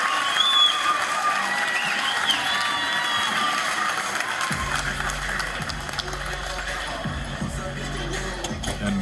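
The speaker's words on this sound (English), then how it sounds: "The crowd definitely the loudest when we see him have success." A bowling crowd at a PBA stepladder final in Missouri cheers and applauds after a strike, a sustained roar of voices and clapping that stays loud throughout, with rhythmic thumps joining in the second half.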